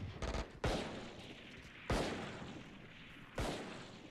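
Gunfire in the video game Valorant rings out in three loud, separate blasts with decaying tails, following a dense burst of rapid shots at the start.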